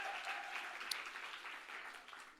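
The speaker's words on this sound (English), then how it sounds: "I think that deserves a big round of applause" Applause from an audience at a political summit, a steady wash of clapping that stays quiet and distant throughout, with no voices on top.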